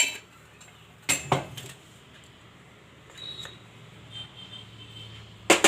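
A kadai and utensils are handled while cashews roast in ghee, making a few sharp metallic clinks and knocks near the start and end. Between them is a quiet stretch with low background hum.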